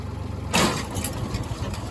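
A Ford tractor idles at about 900 RPM with a steady, low engine rumble, briefly swelling louder for a moment before settling back into an even, close idle with no voices.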